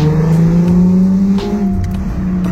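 A Chrysler Crossfire with a 3.2-litre V6, shifted manually, accelerates hard with the windows open, its engine drone loud and close from inside the cabin before easing slightly midway.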